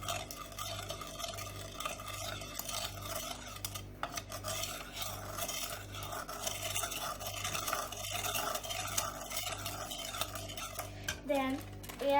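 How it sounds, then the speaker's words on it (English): A spoon stirring three spoons of sugar in a bowl until it dissolves: steady, rhythmic scraping and clinking of metal against the container, close and quiet, with no talking. "we stir until all the sugar is dissolved"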